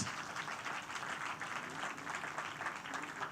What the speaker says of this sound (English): give these wonderful gentlemen a round of applause